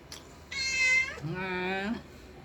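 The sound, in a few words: cat meowing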